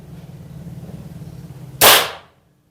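A Nova Vista Cobra PCP air pistol fires a single sharp, loud shot that cracks out suddenly after a quiet stretch and fades quickly.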